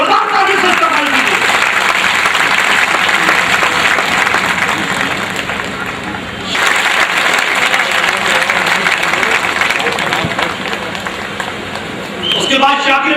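A rally crowd at a political conference in India applauds continuously, a loud, steady wash of clapping that dips briefly midway and then resumes, with a voice coming in near the end.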